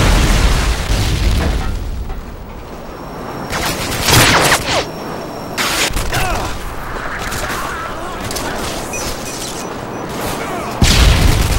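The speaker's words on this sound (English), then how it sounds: "Friendly Predator missile incoming." A Predator missile strike in Modern Warfare 2 multiplayer, heavy booming explosions and bursts over continuous loud battle noise, with a stronger blast near the end.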